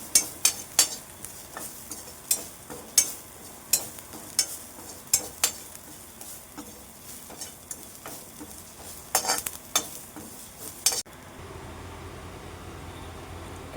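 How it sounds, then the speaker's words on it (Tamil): A handful of garlic dry-roasted in a pan until crisp for idli podi, with repeated scraping stirs and sharp clinks of a spatula against the metal over a soft sizzle, which stops near the end. "பூண்டு ஒரு கைப்பிடி அளவு நல்லா மொறுன்னு வறுத்துடலாம்"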